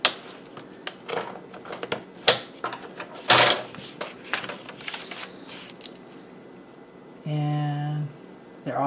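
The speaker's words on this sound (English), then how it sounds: "So I'm going to go ahead and cut these strips down." Scissors snip through paper strips in a scattered series of crisp cuts, close and fairly loud, with rustling handling between them and a brief mechanical whir near the end.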